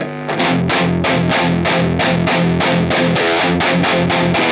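Distorted electric guitar pushed through a high-gain amp plays a tight, rhythmic palm-muted chug, loud regular bursts of heavy chords repeating evenly with short gaps, no voices.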